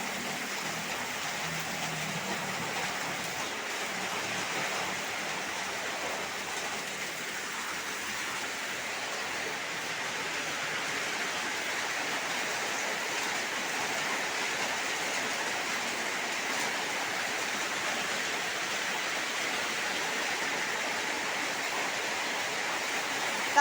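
Heavy rain pours in a steady, dense roar that holds evenly throughout, a continuous wash of noise with no pauses.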